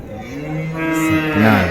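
A cow at the Vaniyambadi cattle market gives a loud, close moo that rises and then breaks into a second, stronger bellow near the end, over low background noise.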